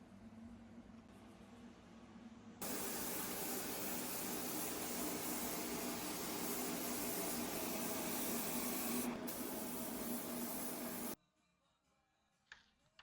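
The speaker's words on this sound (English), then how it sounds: "as I start to spray" After a faint hum, a loud, steady hiss of spray paint on a Honda CBR1000RR-R motorbike fairing runs for about eight seconds, then cuts off abruptly into near silence.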